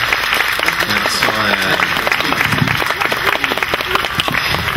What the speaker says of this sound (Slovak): A potom zatleskáme farárom